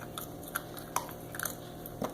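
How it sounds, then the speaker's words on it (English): A bobcat gnaws on a bone, giving a few sharp crunches and bites at irregular intervals, close and fairly quiet against a low steady background hum. "he was chewing that bone up"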